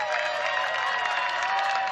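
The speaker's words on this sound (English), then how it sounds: "And Mordock gets the crowd riled up." Crowd at the 2015 WCBU ultimate frisbee Grandmaster final between the USA and Sweden, a sustained wash of cheering and clapping that holds steady and fairly loud throughout.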